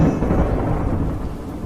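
A thunderstorm with heavy rain over a village: a loud, continuous low rumble of thunder under a dense wash of rain, steady and close throughout, with no voices.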